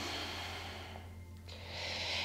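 Slow, soft breaths during a yoga flow, a quiet inhale and exhale drawn out over a couple of seconds with a low steady hum underneath.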